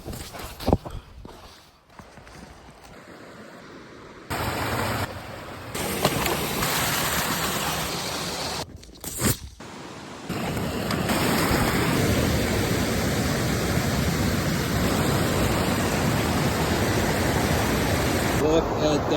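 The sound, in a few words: rushing river near a waterfall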